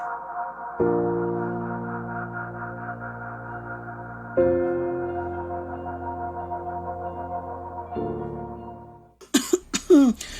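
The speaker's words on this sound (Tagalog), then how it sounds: "para mawala itong ubo ko" After several long sustained musical tones, a short burst of harsh coughing breaks in near the end, close and loud.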